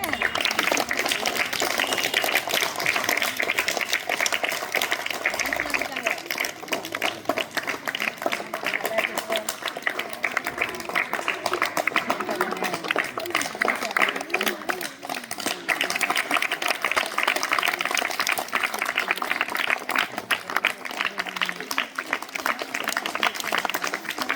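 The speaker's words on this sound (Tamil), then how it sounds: "கைத்தட்டுங்க" Sustained applause from an audience at a school event, dense continuous clapping filling the whole stretch with a faint murmur of voices beneath it.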